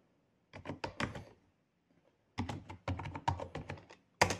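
Quick, crisp taps on an Android phone keyboard while a password is entered, heard in two short bursts separated by a pause, close and quiet against a silent background.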